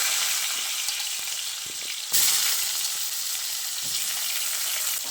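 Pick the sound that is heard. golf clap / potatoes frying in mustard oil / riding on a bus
potatoes frying in mustard oil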